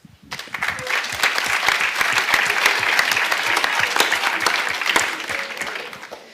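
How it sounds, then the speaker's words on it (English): Applause from an audience at a bachelor diploma ceremony swells quickly and holds steady for several seconds before tapering off, a dense patter of many hands clapping with no talk over it. "You can now applaud Renkse Geurts."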